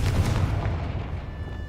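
A Confringo spell blast in Hogwarts Legacy, a loud low rumbling boom that rolls on and slowly fades over under two seconds, with no voices.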